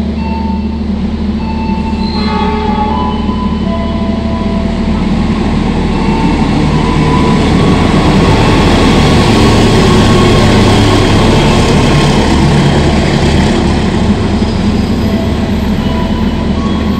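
An Argo Merbabu passenger train rolls past at an Indonesian station, giving a loud, steady rumble of wheels and engine that fills the whole stretch, with faint squeals riding on top and no voices.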